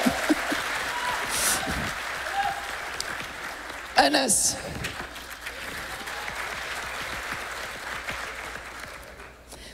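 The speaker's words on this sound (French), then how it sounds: "on peut applaudir Siam" Audience applause at a master class fills the room, steady clapping with a couple of louder bursts and a voice briefly calling out over it before it fades.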